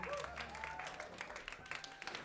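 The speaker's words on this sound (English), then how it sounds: "Give a massive round of applause for them" Audience applause at the 2025 Aotearoa Alternative Awards, a steady wash of clapping with some cheering voices woven through it, running evenly for about two seconds at moderate loudness.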